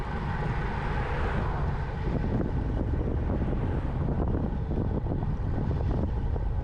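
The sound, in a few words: wind blowing during a bike ride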